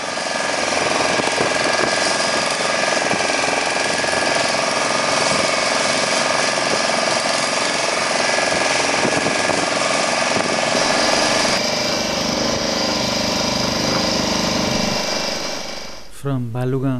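A motorboat's steady, droning engine runs loud and continuous for most of the clip on Chilka Lake, with a rough mechanical rattle, then cuts off abruptly near the end.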